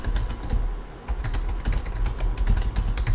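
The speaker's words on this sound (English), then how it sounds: "click for a text box, and I can type my caption" Fast clicking keystrokes on a computer keyboard as a caption is typed, an irregular run of close, crisp taps with no talking.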